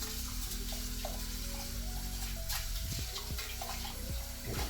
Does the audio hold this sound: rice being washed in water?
yes